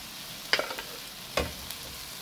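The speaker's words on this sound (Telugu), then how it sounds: "మొత్తం ఇప్పుడు కలయి పెట్టుకోవాలి, మిక్స్ చేసుకోవాలి బాగా" Moringa leaves are stirred with boiled moong dal in a frying pan, giving two scraping strokes of a spoon over a soft, constant sizzle, close up.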